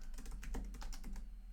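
Rapid typing of C# code on a computer keyboard, a quick, even run of close, soft key clicks over a low steady hum, with no talking.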